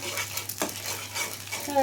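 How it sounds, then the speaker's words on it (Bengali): An egg fries in a little oil in a hot wok with a pinch of salt, giving a soft, continuous crackling sizzle close by, with faint scraping as it is stirred. "কড়াইতে এখন আমি হালকা একটা ডিম ভেজে নিব, হালকা একটু তেল দিয়ে।"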